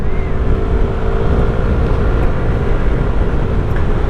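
A 2022 Yamaha Zuma scooter being ridden, with its engine droning steadily and close under constant rumble and wind noise, no talking.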